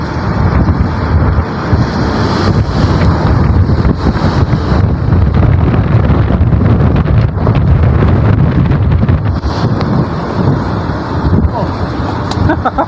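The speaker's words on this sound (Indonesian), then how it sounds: "anginnya kencang." Strong wind buffets the microphone aboard the bunker ship Chung Yu No.1, a loud continuous roar with rushing water and surf-like noise underneath, and a voice talking through it.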